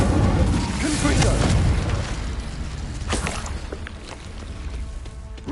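Confringo explosion spell cast in Hogwarts Legacy: a loud fiery blast and booming burst at the start that fades into crackling debris and scattered impacts, with a sharp hit at the very end.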